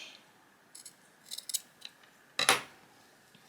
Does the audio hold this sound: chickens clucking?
no